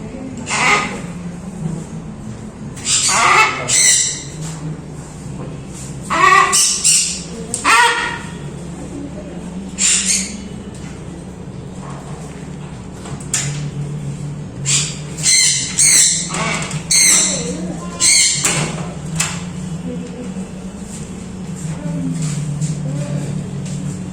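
Pet birds in a pet shop squawk and screech in sharp, repeated bursts over a steady low hum of room noise, fairly near and loud, with clusters of calls spread across the clip.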